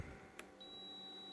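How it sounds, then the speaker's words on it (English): An electrical continuity tester gives a short beep while switch wiring on a Skylark lowrider is checked, followed by a thin, steady high tone that holds quietly to the end. "So that beep means it's good."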